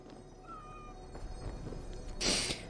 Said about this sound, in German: Hier sind überall Katzen.